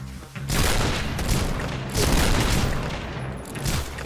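Rapid bursts of gunfire from the online shooter game Point Blank, with loud, dense volleys repeating in close succession and brief gaps between them. Nobody speaks over the shooting.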